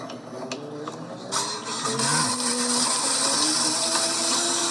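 An apple-coring machine powers up with a loud, steady mechanical whir after a quieter start, running continuously with a grinding buzz close by.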